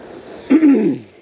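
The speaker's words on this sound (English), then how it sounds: "I'm still feeling that cough." A single harsh cough from someone recovering from COVID, one short raspy burst, close and loud against a quiet background.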